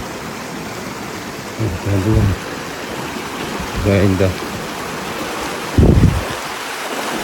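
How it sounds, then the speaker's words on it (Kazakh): Water from a waterfall rushes in a steady, broadband roar with wind buffeting the microphone, and someone speaks briefly in short phrases over it. "Осы водопадтан келген су."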